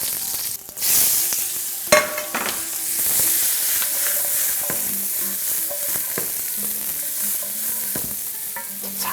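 Green onion, whole garlic and vegetables stir-fry in oil for chop steak, giving a loud, steady sizzle close by, punctuated by sharp clacks and scrapes of a utensil against the pan, with no voices.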